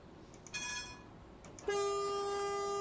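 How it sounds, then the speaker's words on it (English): A tram horn and bell in a high-floor tram simulation game: a short tonal blast, a pause, another brief tone, then a loud sustained harmonic horn note, all clear and close with no talking. "That's what the horn and bell for this sound like."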